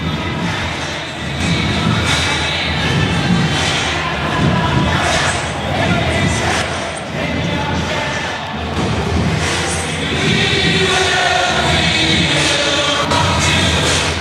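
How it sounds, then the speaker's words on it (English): A home crowd at a night college football game in Tuscaloosa, Alabama hosting Southern Miss, gives off a dense, continuous roar of stadium noise, steady and loud throughout with surging swells. "A night game in Tuscaloosa, and the home crowd is ready"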